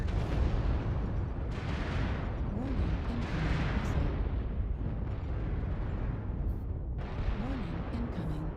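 LRM missile barrages burst in MechWarrior Online, a dense rumbling wash of overlapping booms and explosions with an intermittent warning tone, sustained over several seconds.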